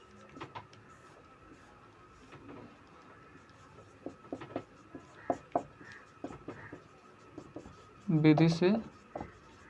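Pen scratching out solution steps for a Class 10 maths equation by hand, a series of short, sparse scribbling strokes, close and soft, with someone speaking Hindi briefly over the writing.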